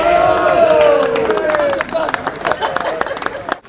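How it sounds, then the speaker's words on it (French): Crowd at a Bagnols-sur-Cèze boules tournament applauding the winning team, dense clapping with cheers, strongest early and thinning toward the end. "Je vous demande de les applaudir,"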